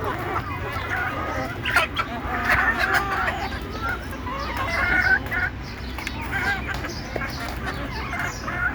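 Desi chickens cluck and call in a poultry yard, several birds sounding close in repeated short bursts over a low steady background hum.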